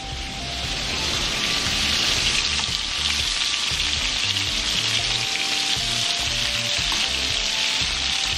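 Meatballs searing in a frying pan give off a steady, loud, dense sizzle throughout, with faint crackles and no talking.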